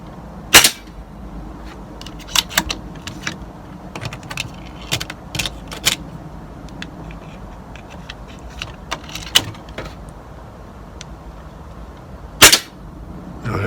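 Pellet gun shots strike a target, a series of sharp irregular cracks and snaps with quieter clicking between them and no talk.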